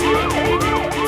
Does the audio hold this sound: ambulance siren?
yes